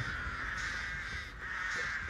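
Crows caw in the video game Dead by Daylight, a loud, continuous harsh cawing chorus that fills the whole moment with a brief dip midway.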